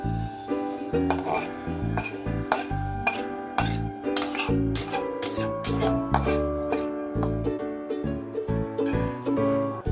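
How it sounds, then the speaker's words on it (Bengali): Fried semolina, cooked in ghee, is tipped from a pan into a bowl, with a series of close metallic clinks, scrapes and taps as a spoon knocks against the cookware, irregular and percussive, with no talking. "এই বাটিতে আমি ঢেলে রেখে দেবো।"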